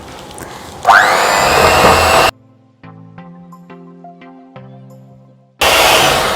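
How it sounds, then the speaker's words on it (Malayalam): A hand blender whirs loudly as it beats butter and powdered sugar for a no-oven tea cake, in two bursts separated by a stretch of music. "ഇത് ഹാൻഡ് ബ്ലെൻഡർ ഞാൻ യൂസ് ചെയ്യുന്നു"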